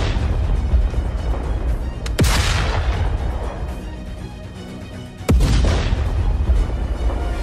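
Two powerful booms, about three seconds apart, crack out sharply, each followed by a rumbling tail, as sound effects in a narrated fantasy story.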